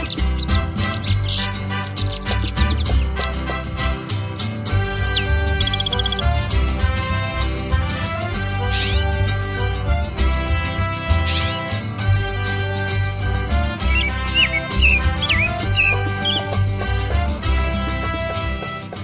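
Birds chirp and call repeatedly at Three Gun Spring on a sunny south-facing slope of the Sandia Mountains in New Mexico, with short, varied tweets scattered over a steady background.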